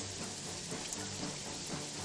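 Steady rain hisses evenly and fills the scene in Jagged Alliance 3, with no breaks or other clear sounds.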